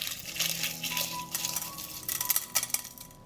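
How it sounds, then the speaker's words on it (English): Eggshells being crushed for homemade plant fertilizer, a run of brittle crackling and crunching bursts, close and fairly quiet, growing sharper toward the end with no voices. "I will crush the eggshells to release as many nutrients as possible."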